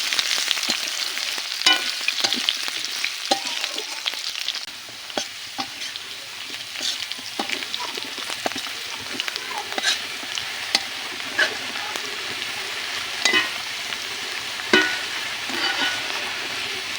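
Cut potatoes frying in hot oil in a pan, a close, continuous crackling sizzle dotted with frequent sharp pops and stirring scrapes, with no voices.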